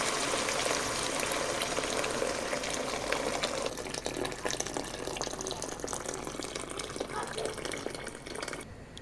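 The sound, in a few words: pouring boiling hot water into pot for noodle soup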